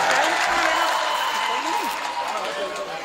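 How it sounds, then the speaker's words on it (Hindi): An audience claps at a Hindi comedy poetry show in Muzaffarnagar, steady applause heard through crowd noise with voices mixed in. "एक बार तालियां बजाओ"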